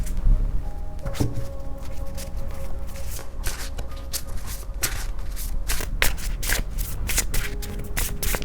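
Tarot cards being shuffled by hand close up, a steady papery riffle broken by repeated sharp snaps and flicks over several seconds, with no talking.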